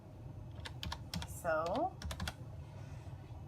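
Someone types on a computer keyboard while searching a patient record system in a radiology setting, with quick bursts of clicking keystrokes and a short spoken word partway through.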